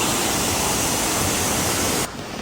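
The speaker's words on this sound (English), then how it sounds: "It is waterfall." A waterfall on a hike toward Mount Everest base camp roars as a loud, dense, continuous rush of water close by, cutting off abruptly near the end.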